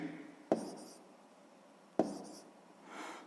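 Pen scratching on paper while working a sixth-grade math exercise: two short, quiet strokes about a second and a half apart in an otherwise hushed room.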